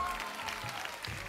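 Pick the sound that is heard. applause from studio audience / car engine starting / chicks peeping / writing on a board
applause from studio audience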